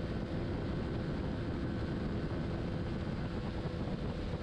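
Racing motorcycle at full throttle in sixth gear, flat out through a fast bend on a road-racing circuit; a steady, loud, continuous engine roar blended with heavy wind rush, no pauses and no talk.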